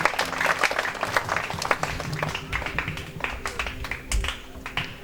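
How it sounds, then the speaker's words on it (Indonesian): Wedding reception guests applauding, a burst of close hand clapping with some voices mixed in, tapering slightly toward the end. "Mari kita beri tepuk tangan untuk orang punya kabur ganteng satu"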